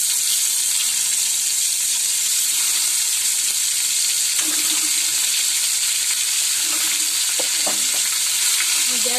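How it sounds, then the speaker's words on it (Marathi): Eggs frying in a generous amount of oil at low heat for a dhaba-style egg masala, giving a loud, continuous sizzle, with occasional light stirring and clinks near the end. "त्यातच मी आता ही अंडी थोडी फ्राय करून घेणार आहे।"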